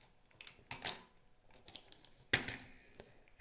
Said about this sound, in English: press the shutter button and advance your film.